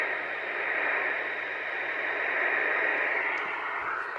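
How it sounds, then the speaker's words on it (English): Steady hiss of radio static from a receiver as the preselector knob is turned back and forth with a homemade 9:1 impedance matching transformer, a continuous broadband rush with slight swells in level, no voices. "You can hear it just even in the static"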